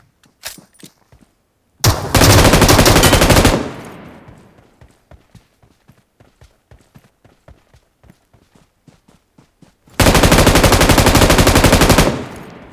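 Two long, loud, rapid-fire machine gun bursts ring out in the mobile battle royale game PUBG Mobile, separated by a quieter stretch of steady clicking footsteps.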